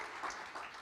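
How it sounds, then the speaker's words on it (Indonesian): A church congregation at a Sunday service claps briefly for a member, a soft, short patter of hands heard faintly from a distance. "Kita kasih tepuk tangan untuk Deborah."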